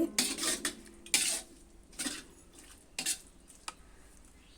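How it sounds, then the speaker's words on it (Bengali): Spices being stir-fried with a splash of water in a pan for a vegetarian banana-flower curry, with a utensil repeatedly scraping and clattering against the metal in short irregular bursts over a faint sizzle, close and moderately loud. "এখন আমি সমস্ত মশলাগুলো জলের সঙ্গে কষিয়ে নিব"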